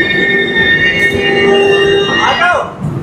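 The 12369 Kumbh Express from Howrah to Haridwar rolls along the rails with a steady, loud rumble and high sustained wheel squeal, and the pitch sweeps briefly near the end.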